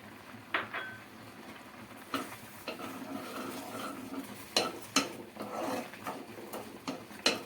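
Spoon scraping and clinking against a pan while cooked semolina is stirred with sugar and food colour, in irregular faint knocks and scrapes over a low hiss.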